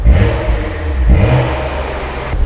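A stage 3 tuned BMW 135i engine revs up loudly and close, with two distinct rising blips in quick succession and a deep, throaty exhaust note that holds between them.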